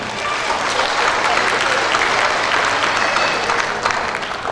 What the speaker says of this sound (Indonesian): Berikan aplaus yang meriah untuk Bapak Trianto dan Bunda Apri.